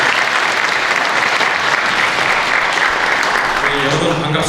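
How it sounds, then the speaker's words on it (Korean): Loud, steady applause from a crowd at a commemorative ceremony in a church, filling the whole stretch, dense clapping with no pauses. "박수로."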